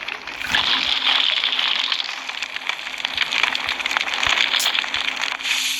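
In the video game Kamla, water is poured to put out a fire: a continuous sloshing, splashing rush mixed with crackling, steady and fairly close throughout.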